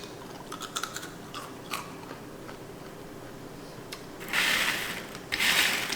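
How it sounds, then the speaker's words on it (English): Crunchy chewing of oven-baked candied pecans, close up, with small irregular bites and crackles followed by louder sustained crunching toward the end. "These have cooled down enough so I can eat them. They're nice, crunchy."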